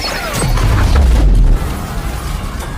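A bomb blast destroys a car in a deep, heavy boom that swells for about a second, followed by crashing debris and a rumbling tail, loud and close.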